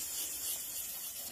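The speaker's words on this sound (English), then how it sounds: "I'm going to sand away the writing" A small valve shim from a Suzuki GSX-R 750 SRAD motorcycle is rubbed in circles on fine abrasive to sand off its printed writing, making a steady, soft, hissing scrape up close.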